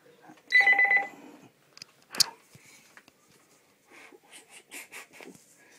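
A cordless handset on a Merlin II business phone system rings: a loud tonal burst near the start, then a quick series of fainter, evenly spaced ring pulses toward the end, with no voices.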